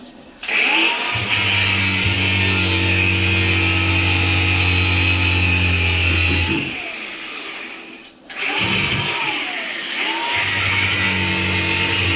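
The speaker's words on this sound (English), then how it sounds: "you got to get a cut-off tool or a hacksaw or something and cut this" A cut-off tool whines loudly and continuously as it cuts through an old tub valve handle, cutting out briefly twice before spinning back up to a steady high-pitched grind.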